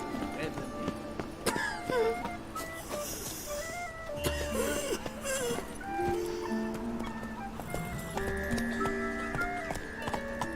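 Horse hooves clip-clop and gallop in The Witcher video game, a repeated rhythmic clatter at moderate distance. Game music and speaking voices run over the hoofbeats.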